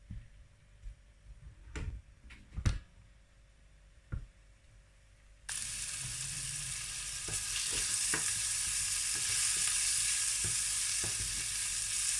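Shallots fry in olive oil over a hob, starting with faint scattered clicks and stirring taps, then a steady bright sizzle that rises and holds close and fairly loud, with occasional utensil knocks.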